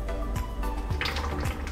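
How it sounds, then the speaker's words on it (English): Cooking oil poured into a 2-liter plastic water bottle, giving a gurgling, glugging flow with a few distinct drips and bubbles, close and fairly loud with no talking. "pour the oil into the water bottle"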